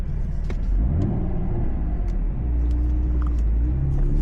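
A manual transmission car's engine drones steadily as it drives on the road, with a low rumble and shifting engine tones that rise and fall as it gets under way, close and continuous, no talking.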